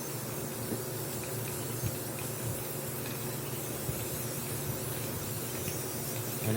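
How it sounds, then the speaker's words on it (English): Clear coat hisses from a spray can in a steady, continuous spray held for several seconds, fairly quiet and even, with only faint flutters in the flow. "So now, let's throw some clear coat on it"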